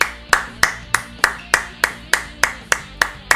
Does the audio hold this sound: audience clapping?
yes